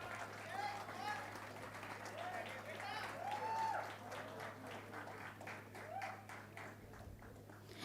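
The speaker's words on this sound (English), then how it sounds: "Please give a huge round of applause." Applause from the audience at a 27th convocation ceremony, a steady broad clatter of clapping that continues throughout, with a speaker's voice carrying over it.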